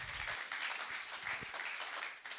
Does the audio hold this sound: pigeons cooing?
no